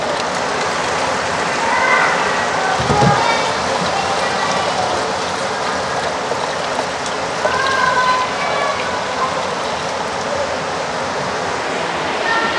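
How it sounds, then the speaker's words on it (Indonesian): Heavy rain pouring down outdoors, a dense, loud, continuous hiss of drops hitting surfaces, with a brief dull thump near the start and faint higher tones in the background. "Hujan kuat kali lah."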